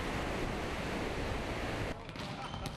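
Ocean surf at Shizunami beach in Makinohara, Shizuoka, makes a dense, continuous hiss and roar of breaking waves, steady and loud before dropping off abruptly near the end.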